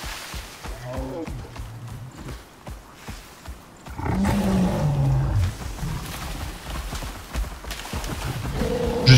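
A bear in the survival video game Icarus growls and roars, rising from quieter rumbling to a louder, sustained roar over a busy game soundscape of footsteps and ambient noise.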